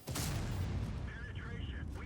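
A heavy tank cannon blast in a video game, XM57, opens into a long booming rumble, with a faint high whistling tone drifting over the low roar.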